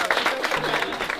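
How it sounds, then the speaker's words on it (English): Party guests applaud together, a dense burst of clapping close by, with voices talking over it. "So the biggest applause to yourself as well."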